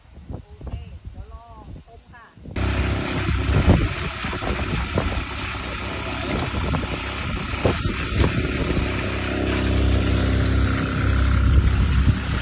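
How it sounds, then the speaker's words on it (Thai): Someone speaks briefly, then a small 14-horsepower engine starts up and runs loudly and steadily nearby, its rough chugging drone continuing to the end. "เครื่องยนต์14แรงม้านะคะ"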